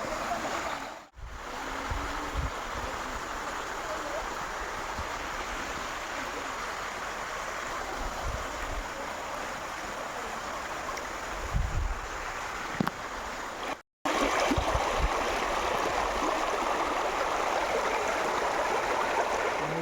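Steady rushing floodwater fills the scene in Punjab, a broad continuous wash with a brief dropout partway through, heard close with some wind buffeting.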